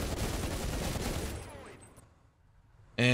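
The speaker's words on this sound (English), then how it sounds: "That's probably the fastest firing machine gun in the world." A tank machine gun in the War Thunder video game fires a dense, rapid burst that roars steadily for over a second and then fades out, followed by a sudden loud tonal sound.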